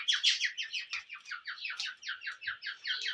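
A male quail calls close by in a cage, giving a rapid, continuous series of bright chirping trills in quick repeated bursts that run steadily for several seconds without pause.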